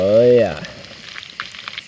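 Food frying in a pan over a camp stove while catching and cooking catfish outdoors at night, a brief burst of sizzle that fades into soft crackling pops, with a short voice sound at the start.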